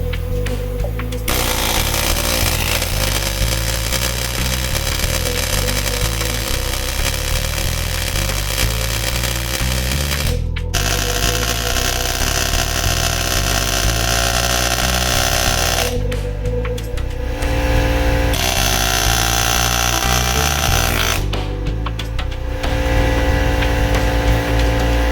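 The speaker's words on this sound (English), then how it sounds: "I was able to use this air chisel, and I knocked off the bottom of the" An air hammer chisel knocks rivet ends off a ball joint on a 1977 C3 Corvette upper control arm, a loud, rapid, continuous pneumatic hammering in several long bursts with short pauses.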